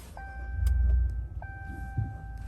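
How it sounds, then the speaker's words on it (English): A 2021 RAM 1500 Rebel pickup truck cranks with a short low rumble as the engine catches and then settles to a quiet idle, while chime tones ring in the cabin and nobody speaks. "All right, so let's turn on the truck."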